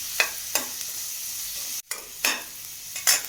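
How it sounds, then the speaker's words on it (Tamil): Food sautés in sesame oil in a pan with a constant bright sizzle, punctuated by a handful of distinct spatula strokes scraping through, close and clear with no talking. "கொஞ்சம் வதக்கிட்டுக்கலாம்"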